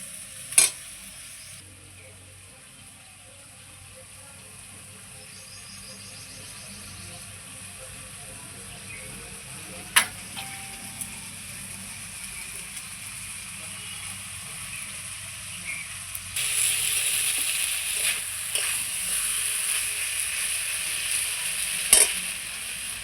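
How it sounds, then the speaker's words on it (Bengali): Helencha greens frying with mustard in a pan give a steady low sizzle, growing louder in the second half, with a few sharp clinks of a utensil against the pan. "সরষা দিয়ে একটু ভেজে নিয়েছি"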